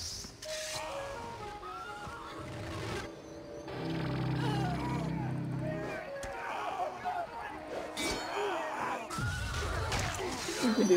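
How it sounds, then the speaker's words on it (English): A horse in a multiplayer video game gives loud whinnies and snorts, close by, among clattering game effects, with players talking over much of it. "Here, pet on the horse, pet on the horse."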